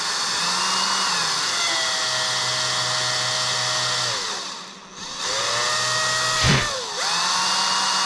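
A vacuum cleaner runs with a loud, steady whining drone while someone cleans around a 2008 Volkswagen R32. The motor pitch sags and recovers twice and briefly drops low near the middle, with no talking.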